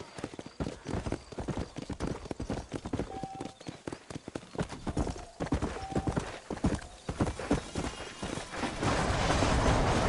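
Hooves clip-clop steadily in Red Dead Redemption, close and fairly loud, keeping an even rhythm with a rising rush of noise near the end.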